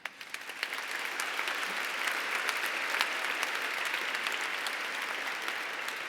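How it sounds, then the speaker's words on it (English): Applause at an anniversary awards dinner, a few sharp early claps swelling quickly into full, steady clapping from a large room that carries on evenly for several seconds. "A round of applause to each one of you."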